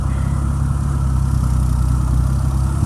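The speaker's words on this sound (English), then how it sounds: "It's got a straight 6-cylinder, which sounds great. It's been running for over half an hour at idle." A 300 Ford straight-six gasoline engine idles on a 2002 Harlan HTLPAG airplane tow tug, a loud, steady low rumble with an even throb and no change in speed, close by and alone.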